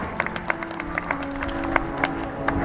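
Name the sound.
applause for the chief guest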